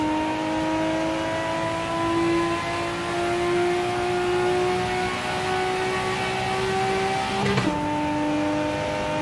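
JDM car engine in a racing video game, a steady sustained drone with a rising whine that climbs, then drops sharply as it shifts and resumes, loud and continuous with no talk.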